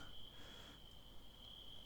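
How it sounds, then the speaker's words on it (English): Crickets in the wetlands of the video game Roadwarden, a thin, steady high chirring that runs unbroken and quiet over soft background ambience. "Enter the wetlands, and the crickets are back out again"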